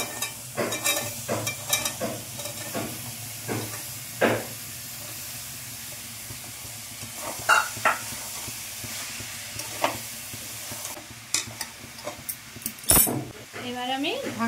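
Cubed potatoes tipped into a pan of spiced, sautéed mixture and stirred, with a hissing sizzle under repeated scraping and clattering strokes, near and fairly loud, and a voice talking at times.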